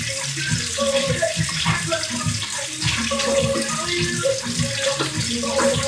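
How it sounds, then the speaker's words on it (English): Tap water pours steadily into a pot on the stove, a pot meant for boiling chicken breast, making a continuous loud splashing gush with a shifting tone as it fills. "I'm filling it up with water."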